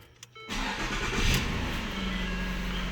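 A 2010 Ford Fusion Sport with the 3.5L engine cranks and fires after a half-second of quiet, then settles into a steady, fairly loud idle with a brief rise in revs, close by and with no talking.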